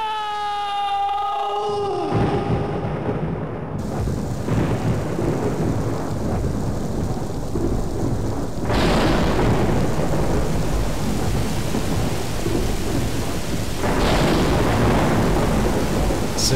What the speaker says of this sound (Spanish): Se ve mejor la lluvia en este juego que en muchos juegos de ahora.